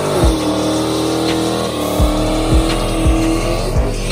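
Dodge Challenger Hellcat doing donuts, its engine roaring loud and close with repeated sharp rev bursts over a continuous growl, with tires squealing as it spins.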